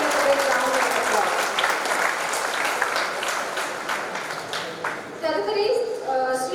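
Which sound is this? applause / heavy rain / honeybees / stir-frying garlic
applause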